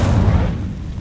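A single booming fiery blast from an Incendio fire spell in Hogwarts Legacy, a short loud low-heavy burst that fades quickly.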